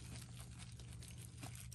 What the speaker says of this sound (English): It's chewing on the bubble wrap.